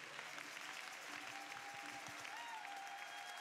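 Church congregation applauding during a service, a faint distant steady wash of clapping with a thin tone running through it.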